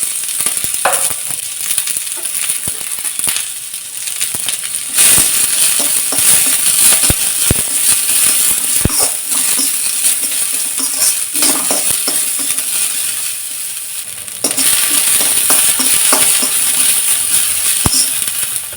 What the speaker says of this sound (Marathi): त्यामध्ये चिरलेला कांदा घालायचा.